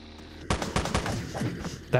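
Gunfire in the game Teleglitch, a quick run of sharp shots in rapid succession, followed by another loud crack at the end.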